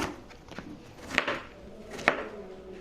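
A knife slicing pointed gourd (potol) into thin pieces on a board, with a few soft, quiet cuts spaced apart, two of them sharper.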